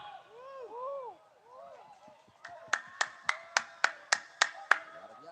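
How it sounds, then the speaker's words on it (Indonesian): A small audience at a neighborhood RT1 community night party claps about nine times in a steady, evenly spaced run after a stretch of talk and music, each clap sharp and fairly close. "Tepuk tangan dong."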